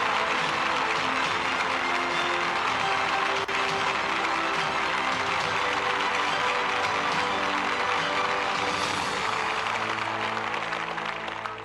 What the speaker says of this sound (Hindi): तालियों के साथ अभिनंदन करें